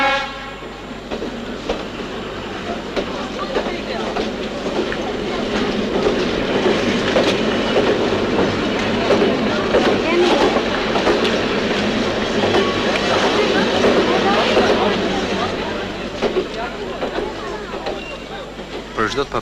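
A train runs on rails with a loud, continuous rumble and rattle that holds steady throughout, and voices can be heard faintly beneath the noise.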